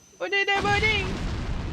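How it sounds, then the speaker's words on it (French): A short vocal exclamation leads into a deep booming burst of fireworks in the video game Resident Evil, fading out with crackling rumble. "Oh, des beaux feux d'artifice!"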